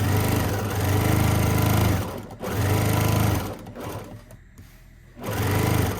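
Sewing machine stitching a fabric seam for a folded basket, a loud steady motor whir in three bursts separated by short pauses.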